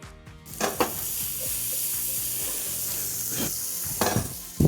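Jalapenos and cheese sizzle in a hot pan while being stirred together for a quesadilla, a steady close frying hiss with scraping strokes of a utensil.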